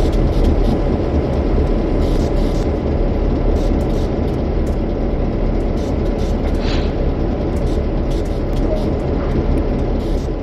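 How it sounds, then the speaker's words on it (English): Clinchfield F7 diesel locomotive idling at hoppers during uncoupling in Train Sim World 2, a loud, steady low engine rumble with faint clanks and hisses scattered over it. "Use the cut bar on the rear hopper to uncouple the hoppers from this locomotive."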